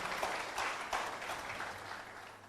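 Audience applause at a motivational success seminar, steady continuous clapping from a crowd, fairly even in level throughout the short stretch.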